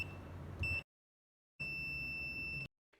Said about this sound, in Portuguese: colocamos o multímetro no modo de bip